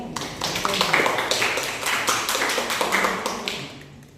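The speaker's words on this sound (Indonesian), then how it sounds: "Silakan beri aplaus kepada Beatrix" A classroom of students applauds for a classmate named Beatrix, steady clapping that fills the room for about four seconds at even loudness.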